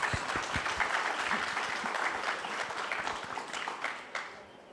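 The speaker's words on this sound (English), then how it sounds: "Please give them applause." Conference audience at a TechHR India event breaks into applause, a dense sustained patter of many hands clapping that swells at first and slowly thins toward the end, with no talking.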